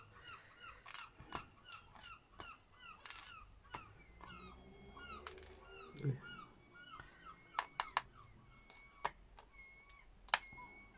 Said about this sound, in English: A baby seagull.